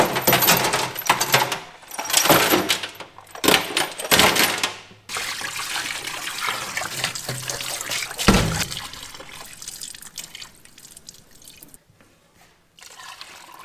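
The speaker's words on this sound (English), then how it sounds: "I think I'm gonna put the rest of the solution in here and try my luck at that." Evapo-Rust rust remover is poured over rusty tractor parts in a container, with metal parts clinking and jangling at first and then a steady liquid trickle that fades out.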